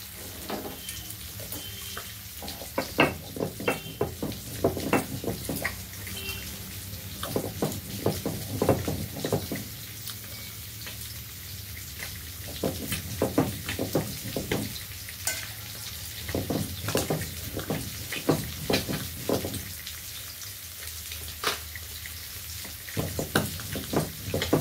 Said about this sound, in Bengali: মাছ ভাজা তোমার প্রায় হয়ে গেছে